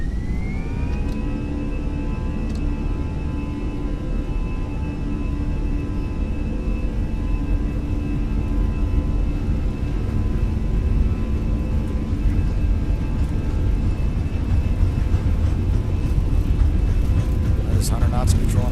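Fenix A320 airliner engines spooling up toward takeoff thrust in Microsoft Flight Simulator, a steady loud roar with a rising whine that holds throughout, and a voice talking over it.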